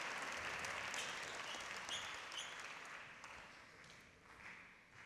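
A squash match crowd applauds in a steady, moderately distant wash of clapping that slowly fades toward the end.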